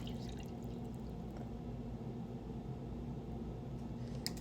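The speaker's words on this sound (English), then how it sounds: "add some water in here" Water pours steadily into an electric kettle, a soft continuous splashing rush with no talking, ending in a small clatter.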